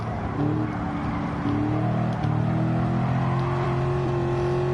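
A car engine in Gran Turismo 7 revs loudly and continuously, its pitch sweeping up and dropping at gear changes, close and unbroken, with no talking.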